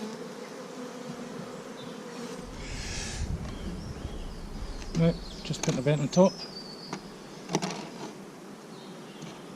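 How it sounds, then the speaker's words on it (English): A dense, constant buzzing of many bees around a hive as an overwintered nuc is moved into it, with a few brief knocks as bees are knocked off and a short spoken remark partway through. "Knocking some of these bees off."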